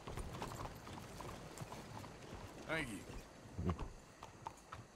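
Horse hooves clip-clop at a steady walking pace in Red Dead Redemption 2, in Saint Denis, under a voice, mixed with soft mechanical clatter and background ambience.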